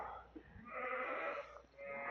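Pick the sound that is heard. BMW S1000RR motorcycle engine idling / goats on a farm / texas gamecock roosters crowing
goats on a farm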